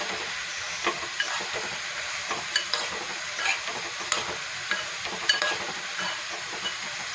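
Onions hiss and sizzle steadily in a hot pan while a utensil scrapes and taps now and then as they are stirred.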